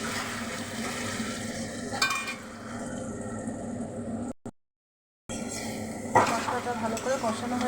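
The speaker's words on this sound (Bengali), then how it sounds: "জিরে গুঁড়োটা দিয়ে ভালো করে কষিয়ে নেব।" Spices with ground cumin sautéing in a pan for a rohu fish curry: steady sizzling and frying with occasional stirring scrapes, briefly cut to silence, then resuming with louder stirring clatter.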